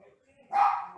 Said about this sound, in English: I have a little dog, and the doorbell rings, he barks.